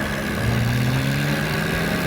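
A John Deere farm tractor engine hums steadily nearby during a farming challenge, a continuous mid-pitched drone with no voices over it.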